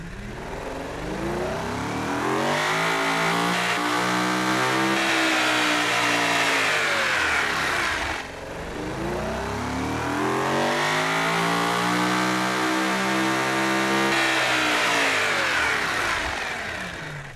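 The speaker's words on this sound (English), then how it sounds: "I do want to hear the engine." The heavy 9-litre, nearly 900-horsepower engine of the Uberschnell car in a racing video game revs loudly and alone, climbing to high pitch, holding, then dropping and revving up again in two similar sweeps.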